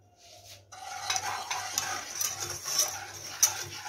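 Rapid scraping and clinking of a whisk stirring a cocoa mixture in a bowl, fairly quiet and continuous, with no talking.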